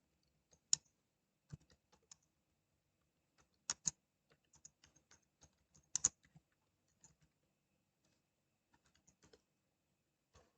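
Scattered keystrokes tap on a computer keyboard while a prompt is typed, sparse and uneven clicks with pauses between short bursts, quiet and close.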